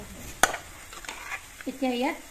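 A spoon clinks and scrapes as spices are stirred in a cooking pot for fish curry, a sharp knock followed by soft scraping and sizzling, with a voice speaking briefly near the end.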